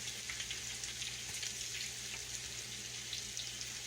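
Eggplant frying in hot grease turned up high, a faint continuous hiss and crackle of sizzling oil with soft popping, steady throughout and no talking.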